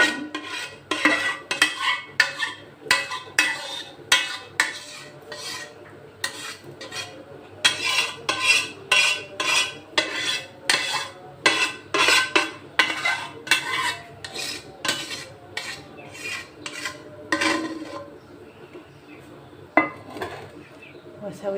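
A spoon scrapes and taps against a baking dish while spreading béchamel over macaroni for an oven-baked tray, giving a steady series of close, clinking and smearing strokes with brief pauses.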